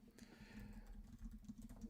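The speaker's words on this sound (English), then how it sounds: "then, yeah, I'm typing." Quiet typing on a computer keyboard, rapid soft key clicks running continuously at a low level behind a faint background hum.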